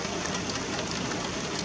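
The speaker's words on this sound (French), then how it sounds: "ça continue à pleuvoir" Steady rain falls after a moderate storm in Sallanches in late February, with snow higher up. It makes a dense, even hiss with no breaks or voices.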